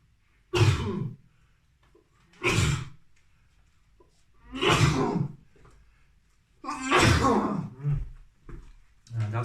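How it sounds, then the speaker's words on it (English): A person sneezes several times in a row, five loud, explosive bursts spaced a second or two apart, close to the microphone with quiet between them. "That's why I don't sneeze in public."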